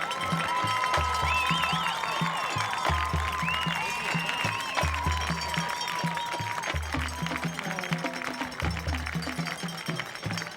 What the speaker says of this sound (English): A standing round of applause is in order.